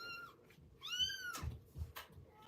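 Small kittens meow in a home, a few high, thin, rising cries alternating with soft rustling and bumping nearby, heard close with no speech.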